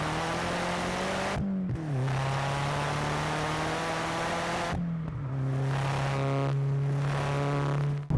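A Mk4 VW Golf GTI engine drones under load while driving on an icy road, its pitch climbing steadily through the gears with two brief dips at shifts, a sustained, close hum with turbo boost building.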